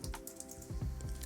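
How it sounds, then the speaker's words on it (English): Rapid computer keyboard key presses and a mouse click during work in Substance Designer, a quick close cluster of sharp clicks with a faint background hum. "I'm going to hold Alt on my keyboard, and with a mouse click I'm going to detach this"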